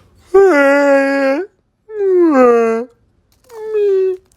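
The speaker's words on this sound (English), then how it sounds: "The dog is freaking out." A dog whines and howls in three drawn-out, wavering cries separated by short pauses, close and loud.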